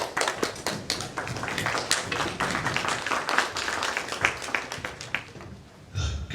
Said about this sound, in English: I'd like us to stand up and give you a round of applause